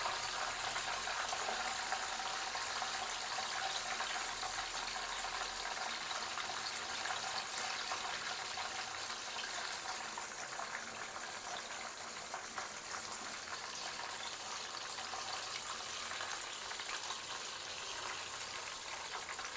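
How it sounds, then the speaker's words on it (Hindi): Pieces of crispy chicken broast deep frying in hot oil give off a loud, steady bubbling hiss that runs unbroken, with no voices. "इसी तरह से हम बाकी भी चिकन फ्राई कर लेंगे।"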